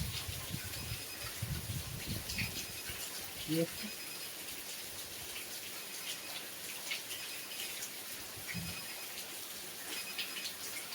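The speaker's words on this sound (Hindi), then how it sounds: "तो बारिश की आवाज़ आ रही है पानी की।" Steady rain falls outdoors, a continuous broadband hiss that runs through the whole stretch, with a voice speaking over it at times.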